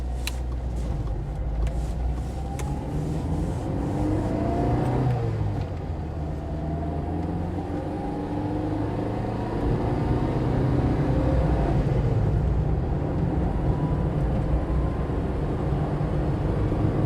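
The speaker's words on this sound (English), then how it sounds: "So I'm driving along, okay, I'm up into fourth gear already." A Yugo 45 car driving and accelerating in fourth gear, its engine and road noise a steady loud rumble from inside the cabin throughout.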